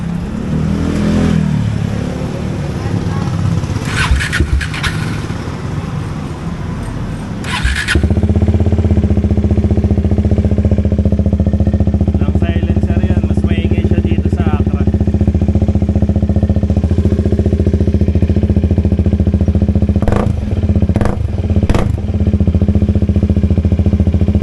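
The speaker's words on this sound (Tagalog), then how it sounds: "Sound check nang wala mo ng silencer." A Bajaj Dominar 400 motorcycle fitted with an SC Project exhaust and no silencer idles loud and close with a deep, steady rumble, broken by a few sharp throttle blips near the start and end.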